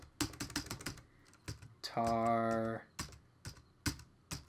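Rapid, irregular clatter of keys on a computer keyboard, close and crisp, in bursts before and after a short held electronic tone; someone speaks briefly.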